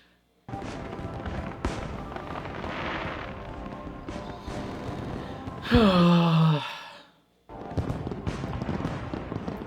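Fireworks in a scene from the TV drama The Pitt: dense booming bursts and crackle fill the clip, with a loud descending whistling shriek near the end before a brief silence and more bursts.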